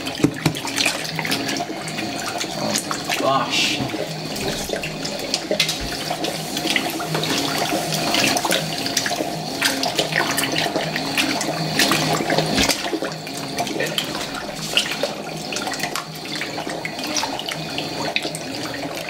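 A Fisher & Paykel washing machine fills with water for its rinse, a steady rushing spray and splashing running continuously at moderate loudness, with a brief exclamation from a person.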